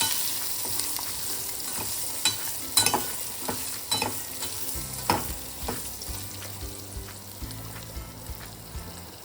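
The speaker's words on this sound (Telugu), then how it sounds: "ఆ తర్వాత పచ్చిమిరపకాయలు, ఉల్లిపాయలు రెండు సన్నగా దొరుకుని పొడుగ్గా అవి కూడా బాగా వేయించాలి" Urad dal, green chillies and sliced onions fry in a pan, a close steady sizzle broken by sharp scraping and clinking taps of a stirring spoon at irregular intervals, no voices.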